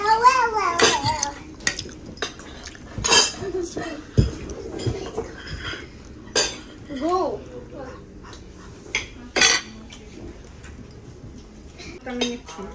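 A spoon clinking and scraping against a plate while eating white rice at a Chinese restaurant, several sharp close taps spread irregularly, with people talking between and over them.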